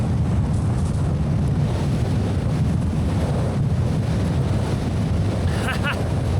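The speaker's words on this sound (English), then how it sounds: "Oh man, it got way windier." Strong gusting wind on a mountain ridge in the High Uintas Wilderness buffets the microphone in a constant, heavy low roar, with no pause across the whole stretch.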